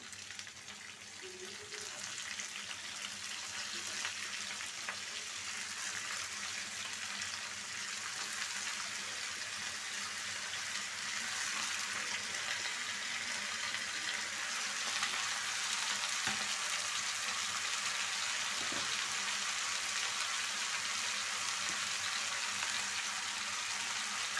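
Beef curry pieces frying in a pan with potatoes being added, a steady broadband sizzle and hiss that continues unbroken throughout, with a couple of faint stirring knocks and no talking.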